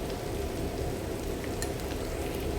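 Turmeric, chili and coriander powders sizzle steadily in a hot pan with sautéed onions and vegetables for vegetable kothu parotta, a constant close frying hiss with occasional stirring scrapes and no talking.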